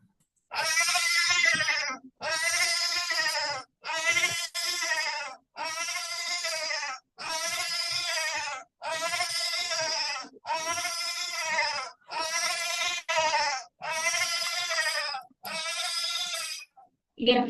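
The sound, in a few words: goat bleating sound effect in a Scratch coding project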